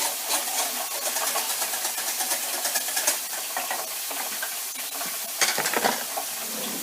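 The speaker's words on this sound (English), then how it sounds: "Keep whisking. Just keep whisking." A whisk works a peppercorn sauce in a hot pan, with a continuous scraping, stirring rhythm over a steady sizzle, close and moderately loud.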